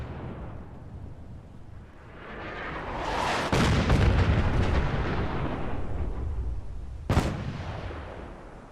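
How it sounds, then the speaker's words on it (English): Artillery in the game Fallout 4 booms out as a heavy, rolling blast that swells and rumbles for several seconds, followed by a sharp second crack near the end. "Love the artillery."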